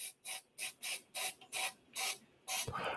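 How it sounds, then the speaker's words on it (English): CA glue accelerator sprayed onto a piece in a woodturning shop: eight short, sharp pump-spray hisses in a quick even rhythm, close and distinct, ending with a slightly longer burst. "a little spray of accelerator in there"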